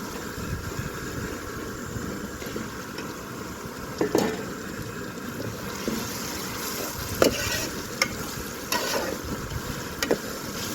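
Tomatoes fry in a pan for uggani, a soft continuous sizzle under scattered stirring scrapes and clinks from a spoon, close and fairly quiet, no talking.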